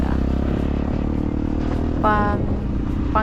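A motorcycle engine drones steadily and close on a cool mountain road near Roty Peaks in Bukidnon, with a brief rise in pitch partway through and a voice talking over it.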